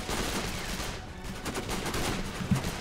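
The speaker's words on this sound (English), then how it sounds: "Who the fuck is shooting me all the time?" Gunfire in Sniper: Ghost Warrior, a dense run of overlapping shots and bursts filling the short stretch with no speech, steady and fairly loud with one sharper crack near the end.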